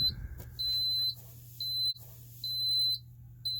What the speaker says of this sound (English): Yep, there's the battery disconnect alarm.